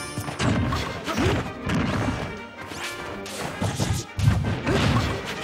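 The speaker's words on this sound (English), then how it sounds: "Forward smash almost killed, but not quite." Forward smash attacks in Super Smash Bros. 4 land as loud repeated crashing hits and thwacks amid busy tournament game audio, with several impacts packed into a few seconds.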